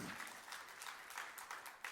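Lively applause from a church congregation during a sermon, a continuous crisp patter of many hands clapping throughout.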